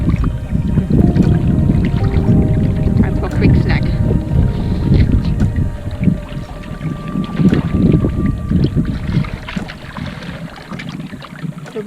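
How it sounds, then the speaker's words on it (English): A canoe is paddled on a windy lake in Algonquin Park, with steady splashing and water wash under heavy, continuous wind buffeting the microphone throughout. "And started to paddle."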